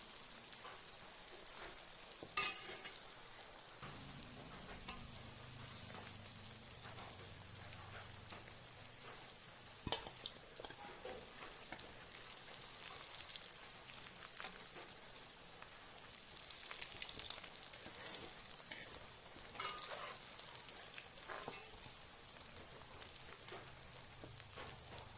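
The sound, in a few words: frying food in hot oil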